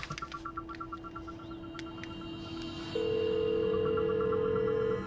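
A phone call rings out, a faint steady tone that turns into a louder continuous pitch over the last two seconds, preceded by a few soft clicks and beeps, with no talk.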